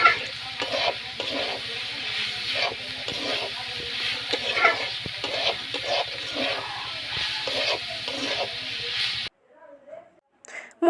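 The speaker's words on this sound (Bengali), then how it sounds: "তো মূলোগুলো ভাজি করা হচ্ছে, দেখতে পাচ্ছ" Radishes coated in salt and turmeric, with a little sugar added, fry in a pan, giving a constant loud sizzle with rhythmic scraping from repeated stirring, then stopping abruptly into near silence.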